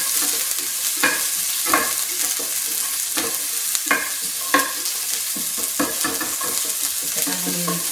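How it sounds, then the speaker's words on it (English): Chopped onions sizzle steadily in a pan over gas turned just below medium, with irregular scraping stir strokes cutting through the constant crackle. "Get the onions going"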